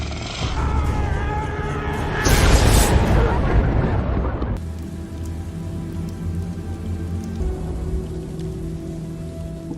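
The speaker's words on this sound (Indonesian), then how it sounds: "hujan turun membasahi permukaan bumi" Steady rain falls on the ground in a film scene, a dense, even hiss that swells loudly for a moment then settles into a continuous wash, with no talk over it.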